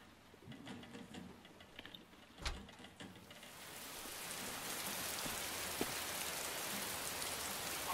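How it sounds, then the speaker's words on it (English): Heavy rain builds from a few scattered drops and ticks into a dense, steady hiss of downpour on surfaces, growing louder and filling the background by the end. "I love the sound of rain."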